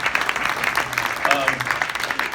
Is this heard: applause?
yes